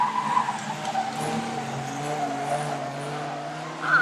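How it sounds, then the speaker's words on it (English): Stock car tyres screech on the opening lap at Onchan Raceway, a sustained wavering squeal over engine drone that echoes around the oval, swelling again near the end. "the screech of the tyres on this opening lap echo around Onchan Raceway"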